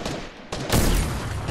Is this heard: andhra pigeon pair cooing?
no